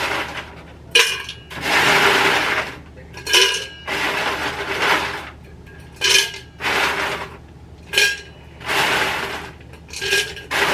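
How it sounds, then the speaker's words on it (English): Ice being scooped and dropped into a container by an event coordinator, heard as repeated bursts of clattering, clinking cubes separated by short pauses, close and fairly loud. "we're gonna add some ice to here"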